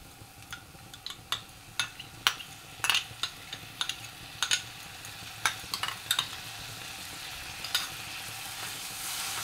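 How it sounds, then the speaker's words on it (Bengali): Bengali-style kakrol (spiny gourd) kalia being sautéed with whisked yogurt: a soft, quiet sizzle under repeated sharp scrapes and clinks of a spatula against the pan, falling in an irregular stirring rhythm. "সবগুলো আমি সুন্দর করে কষে নেব।"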